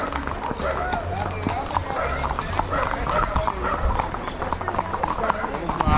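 Horse hooves clip-clopping in a busy trotting rhythm at a horse parade in Mayagüez, Puerto Rico, heard under loud, constant crowd talk and shouting.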